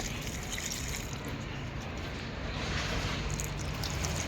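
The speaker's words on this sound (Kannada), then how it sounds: "ಪ್ಲಾಂಟ್ಸ್ಗೆ ನೀರು ಹಾಕಕತ್ತೀನಿ" Water pouring onto potted plants, including an aloe vera, as a steady close splashing trickle that runs without a break.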